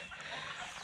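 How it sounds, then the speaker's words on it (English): Soft, quiet clucking from baby chickens on a farm, a low continuous murmur of small fowl sounds close by with no talking. "they're baby chickens."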